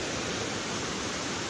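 Water pours steadily over the spillway of the Araras dam in Varjota, Ceará, a dense, constant rushing roar with no pauses and no voices.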